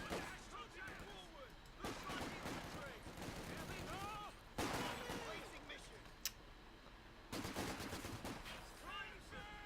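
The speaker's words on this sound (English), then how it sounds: "Vickers barrage" Vickers machine gun barrage in a tank strategy game, bursts of rapid gunfire and distant explosions in repeated waves, with a voice talking over the battle.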